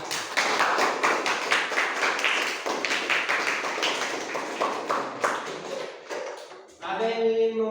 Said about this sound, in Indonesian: Tepuk tangan untuk Sophia